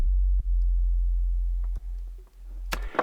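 A deep sine wave synth bass tone from Serum, dropped two octaves with three-voice unison, hums low and steady in notes restarting three times before a brief noisy click at the end.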